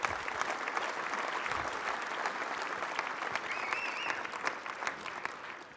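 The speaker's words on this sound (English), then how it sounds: "Give him a round of applause." Steady applause from a dinner audience fills the room, dense clapping that carries on at an even level for several seconds.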